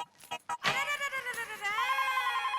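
A household telephone rings with a sustained electronic tone in a home, preceded by a few short knocks or clatters.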